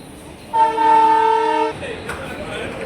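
A Mumbai suburban local train sounds one sustained horn blast, loud and close, followed by rumbling platform noise.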